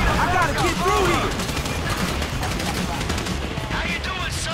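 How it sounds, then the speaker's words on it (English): Gunfire in Grand Theft Auto V crackles in rapid bursts at a loud, constant level, mixed with chaotic game effects and voices. "You hear that gunfire?"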